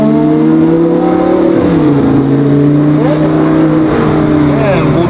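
A Lamborghini Gallardo supercar fitted with an FI exhaust rumbles loudly nearby, its engine tone shifting up and down in pitch, while someone talks over it.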